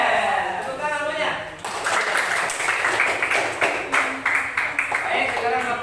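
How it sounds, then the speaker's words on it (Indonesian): Students in a classroom break into applause, a dense run of clapping that rises after a teacher's spoken prompt and carries on loudly to the end, with voices mixed in. "Tepuk tangan semuanya."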